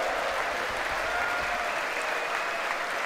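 Members of Congress applauding during a State of the Union address, a steady, dense wash of clapping that fills the whole stretch without letup.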